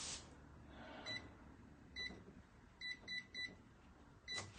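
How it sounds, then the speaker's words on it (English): Kitchen timer set in a home kitchen while making vegan chocolate cookie dough bars, giving short electronic beeps: a lone beep, another, then a quick cluster of three and a final beep, each clear against a quiet background. "Let me set my timer."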